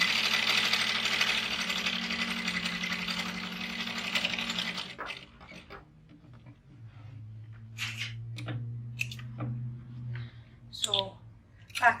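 A sewing machine runs a steady back-stitch at the start and end of a seam while making a bag pouch, a continuous mechanical whirr for about five seconds that then stops, with a person talking afterwards.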